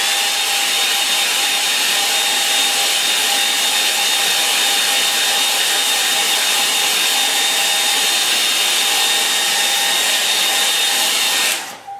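A hair dryer blowing steadily to dry paint on a painting, a loud close continuous whine with a high tonal hum, running unbroken for about twelve seconds before switching off, with no talking.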